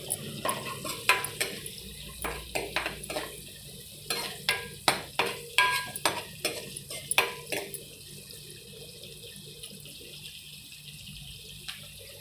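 A spoon scrapes and stirs chana dal frying with onions in a pan, making a string of close, rhythmic clatters over a soft sizzle before the stirring stops and only a faint hiss remains.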